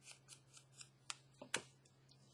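Scissors snip through a paper junk-mail envelope, trimming out a curve: several short, crisp cuts spaced apart, close and fairly quiet, with no talking.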